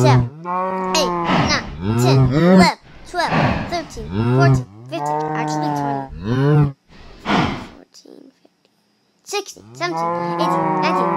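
Several cows at a gate moo loudly and repeatedly up close, long harmonic calls in a series of five or so separated by brief pauses, with a few short gaps of near silence.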